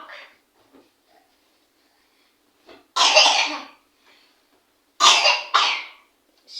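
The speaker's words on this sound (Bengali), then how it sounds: "কাশি রে" Three loud, close coughs burst out in a quiet indoor setting, a pair coming in quick succession near the end, with a few faint rustles and small noises between them.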